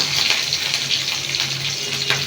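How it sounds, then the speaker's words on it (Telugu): Green chillies hitting hot oil in a pan while cooking a curry, giving a steady close hiss and sizzle that stays even throughout with no talking. "ఇప్పుడు పచ్చిమిర్చి వేస్తాము ఒక త్రీ పచ్చిమిర్చి"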